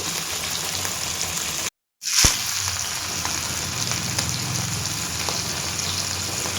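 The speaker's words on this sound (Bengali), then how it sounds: "ইলিশটাকে হালকা ভেজে নেব।" Hilsa fish sizzling and spitting in hot oil, a steady crackling fry with a short gap early on and a small clatter, no talking.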